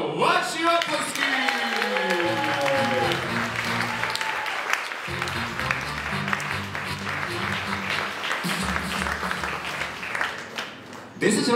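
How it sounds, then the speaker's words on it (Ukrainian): An audience applauds a speaker being introduced at a storytelling show, steady dense clapping that runs for about eleven seconds with music underneath, then fades out at the end. "ваші оплески!"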